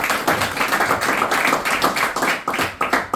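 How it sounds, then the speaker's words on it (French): Congregation at a church service clapping their hands in brisk, rhythmic applause, loud and close, with little talk over it. "Applaudissez encore les Seigneurs"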